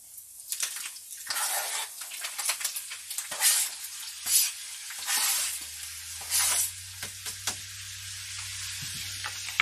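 Diced vegetables are stirred into cooking meat for sloppy joes in a pan, producing a steady sizzle broken by repeated scraping, shuffling bursts as the spoon moves through the mixture, close and moderately loud.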